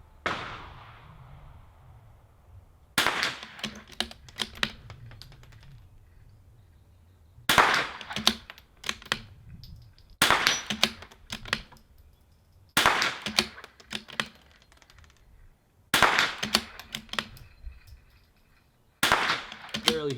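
Sharp rifle reports from an NRL22 match ring out one at a time at spaced intervals, each followed by a metallic clang from steel targets, with quiet gaps between shots.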